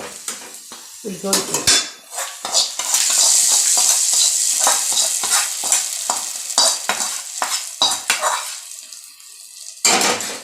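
Onion and curry leaves frying in a pan while a metal spoon stirs and scrapes against it, loud clinks and clatters over a bright continuous sizzle, with no talking.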